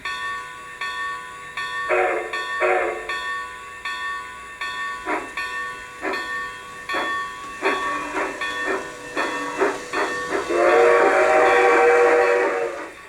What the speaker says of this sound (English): Let's ring the bell, give it 2 toots of the horn, and send it on its way